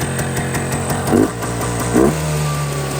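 A cold MZ TS125 motorcycle engine drones at steady high revs, buzzing and loud, with two brief rising surges partway through.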